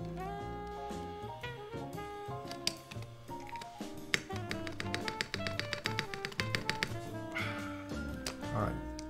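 Spacebar taps on a Mode80 mechanical keyboard fitted with an ABS spacebar, a quick run of crisp clicks over steady background music.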